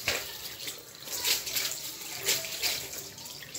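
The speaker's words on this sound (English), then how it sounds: "I will wash it again." Pieces of kilishi, a dried spiced meat, are washed by hand in a basin of water, giving close splashing and sloshing in several uneven surges with no talking.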